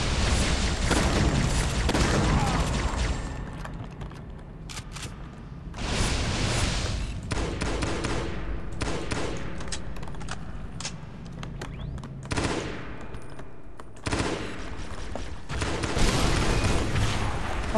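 Shotgun fire in a sci-fi video game, heavy booming blasts repeated every few seconds across a battle with other explosions, loud and close.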